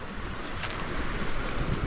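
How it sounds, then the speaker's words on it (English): Steady broadband rush of a creek flowing beside a campsite next to a parked truck with a small fire going, constant and fairly loud with no talk. "There's a creek right on the other side of the truck. You can hear it."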